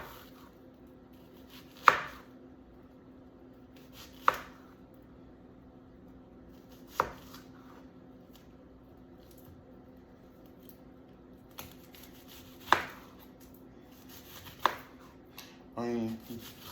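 A knife chopping through an onion on a cutting board, with six or seven separate sharp knocks spaced a few seconds apart and quiet background noise between them.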